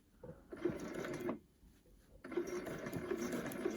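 Domestic sewing machine stitching slowly around the top of a flat sleeve, its motor whirring in two bursts with a short quiet gap between them, close and steady.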